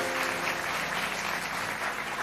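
A television studio audience applauds a singer on a French talk show, a continuous even patter of many hands clapping with no voices on top.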